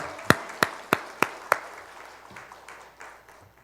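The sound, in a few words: church congregation applause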